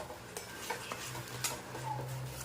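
Gram flour batter stirred in a pan with oil for thapi vadi, close rhythmic scraping and clinking of a spoon against the pan over a low sizzle.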